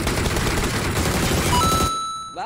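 Dense rapid gunfire in the mobile battle-royale game PUBG Mobile, a loud continuous burst of shots that cuts off near the end, with no voices over it.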